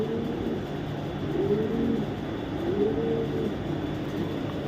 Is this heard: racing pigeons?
yes